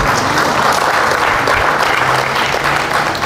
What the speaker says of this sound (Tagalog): Yung bawat palakpak nyo po, may power na dumadalo yan.